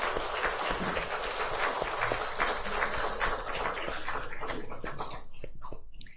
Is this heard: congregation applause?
yes